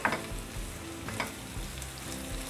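Spiced pumpkin curry being stirred in a hot pan, a soft continuous sizzle and frying hiss with a few light scrapes of the spoon.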